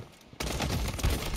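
Gunfire from a mobile shooter game played on a ROG Phone 8 Pro: after a quiet start, a dense, continuous burst of rapid shots erupts and keeps going, loud and steady to the end.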